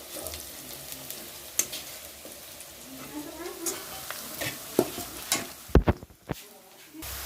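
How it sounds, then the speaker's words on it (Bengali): Chicken frying in oil with browning onion and spices, a steady close sizzle under repeated spatula stirs and scrapes, ending in a few sharp knocks against the pan. "আর এই যে মুরগি ভাজা হচ্ছে,"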